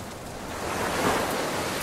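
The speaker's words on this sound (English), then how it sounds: "that water sounds so realistic. I nearly jumped back because I thought it was like a wave crashing down on my feet" Surf-like wash of ocean waves in a hidden-object adventure game, a broad steady roar that swells toward the middle of the short clip, with no talk over it.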